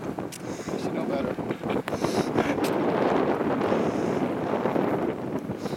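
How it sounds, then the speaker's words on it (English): Strong 20 mph side wind buffets the microphone in loud, rushing gusts, with a person talking underneath, at El Mirage dry lake land-speed racing. "We got a good 20 mile an hour side wind."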